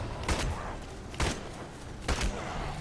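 Three evenly spaced gunshots ring out in the Evil Dead video game, each a sharp bang over a constant background of game noise.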